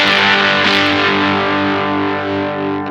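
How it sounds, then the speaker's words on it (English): Electric guitar on the bridge pickup played through a Dunlop Fuzz Face pedal, giving a thick 70s-style fuzz tone; a single loud, sustained distorted chord rings out alone and slowly decays. "So it already starts to become fuzzy. It's kind of a 70s style distortion."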